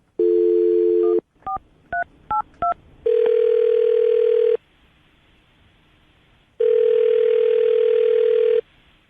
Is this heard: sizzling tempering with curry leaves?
no